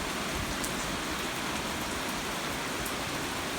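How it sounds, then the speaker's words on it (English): Gentle rain falling steadily on surfaces outdoors, with little wind, a continuous soft hiss with scattered drop patter throughout. "this is more of a gentle rain"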